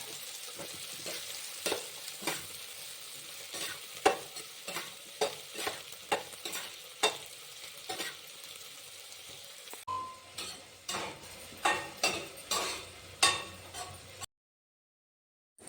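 Soybean chunks frying in a pan, a soft sizzle punctuated by regular scraping and tapping stirs, fairly quiet and close, ending in sudden silence.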